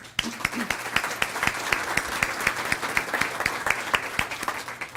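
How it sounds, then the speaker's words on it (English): Sponsors are applauded at a school district's student-of-the-month ceremony by a small gathering, with distinct individual claps ringing out in a steady rhythm over a faint room hum. "let's give them a great round of applause"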